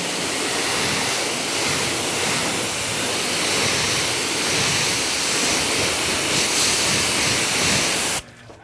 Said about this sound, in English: Let's spray this part off.